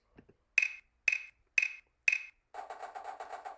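A few soft taps, then four evenly spaced sharp drum hits, followed by a rapid run of quicker, lower strokes; notated drum flams played back by Finale notation software.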